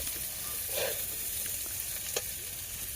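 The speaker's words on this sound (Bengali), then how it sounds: "ফুলকপি আলু ভাজা।" Cauliflower and potatoes frying in a pan give off a soft, steady sizzle with faint stirring clicks, low and close.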